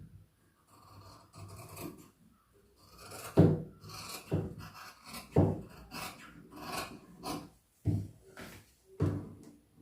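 Scissors snip through churidar sleeve fabric in a series of rasping cuts, close and moderately loud, with short pauses between the strokes and no talking.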